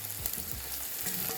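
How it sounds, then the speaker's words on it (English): Two minced garlic cloves sautéing in a pan after onions, a steady close hiss of frying with faint stirring underneath. "I went ahead and dropped in the 2 minced garlic cloves, and it's gonna saute that for about 45 seconds"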